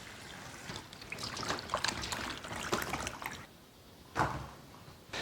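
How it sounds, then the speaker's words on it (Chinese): Green peppers are rinsed under running water in a kitchen, giving uneven splashing and trickling close by, with louder bursts, a brief lull and another splash near the end. "加清水先清洗干净"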